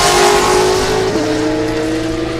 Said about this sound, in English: Man, those cars are loud,